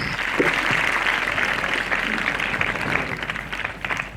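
A school audience at an investiture ceremony breaks into sustained applause, a thick, even roar of many hands clapping that holds steady and loud throughout.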